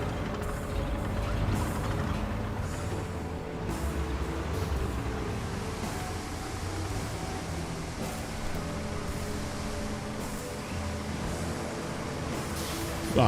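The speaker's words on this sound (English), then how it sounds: "Oh, I'm just dumping sand." Sand pours from a dump truck in the construction video game Roadcraft, making a continuous grinding, rattling rush with mechanical clatter underneath that stays steady and fairly loud throughout, with a louder burst right at the end.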